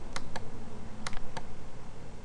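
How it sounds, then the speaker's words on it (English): Several sharp, close clicks of a computer mouse at a desk while working in a spreadsheet, coming in a loose irregular pair-and-pair pattern over a low steady room hum. "Having trouble clicking, apparently."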